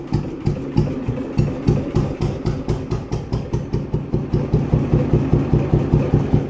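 An old Bernard P3 diesel engine from Bernard Motors chugging steadily at idle, loud rhythmic thumping beats repeating evenly throughout with no voices.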